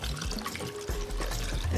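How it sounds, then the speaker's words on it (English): Warm water poured over salted lemons in a jar, a continuous close splashing and gurgling pour that runs steadily for a couple of seconds. "And you cover it with warm water."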